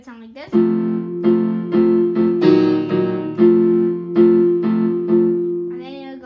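Piano playing a melody with both hands together: a steady run of about ten repeated chords, loud and close, with no talking.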